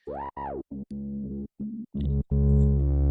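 A Moog synthesizer with added drive and resonance plays several short stabs, then a longer sustained note with a buzzy, saturated, gritty, resonant edge.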